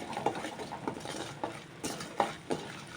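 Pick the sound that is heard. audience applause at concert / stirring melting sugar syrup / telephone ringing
stirring melting sugar syrup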